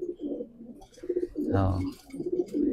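Pigeons in a racing-pigeon loft give soft, low cooing calls in short bursts, one fuller coo standing out in the middle, close by and fairly quiet, with faint background noise.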